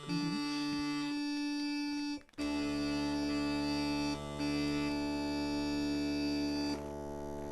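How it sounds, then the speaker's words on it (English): A steady, low droning tone holds continuously, briefly cutting out then resuming with a rich, organ-like buzz of overtones; no talking. "And that's the bass drone."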